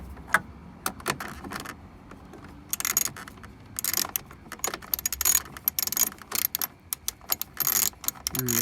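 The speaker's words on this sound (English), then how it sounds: "I'm just going to tighten these bolts" Ratchet tightening bolts on a GMC side mirror assembly, close up, with bursts of quick clicking and metallic rattles separated by quiet pauses.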